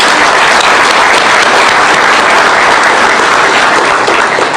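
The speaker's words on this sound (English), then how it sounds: "you deserve a huge round of applause" Dense, sustained audience applause at a business event in Kenya honoring an entrepreneur, loud and steady throughout with no gaps.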